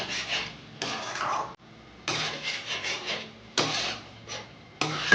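Chikni greens, potato and eggplant curry is stirred in a pan, a spoon scraping and rubbing against the bottom in repeated bursts separated by short pauses, close and moderately quiet.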